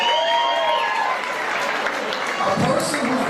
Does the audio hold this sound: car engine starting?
no